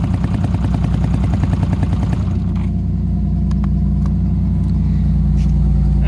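A car engine running loud and close, chugging steadily at first, then settling into a deep, even idle hum.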